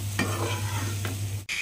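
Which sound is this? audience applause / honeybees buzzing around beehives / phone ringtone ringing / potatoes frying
potatoes frying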